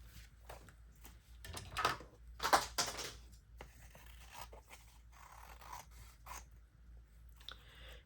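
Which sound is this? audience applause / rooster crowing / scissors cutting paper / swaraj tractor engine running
scissors cutting paper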